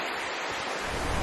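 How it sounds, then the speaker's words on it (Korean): Ocean surf breaks on the shore of a Philippine island, a brief continuous rush of wave noise heard close by with some wind buffeting the microphone. "파도 소리가 들리시나요?"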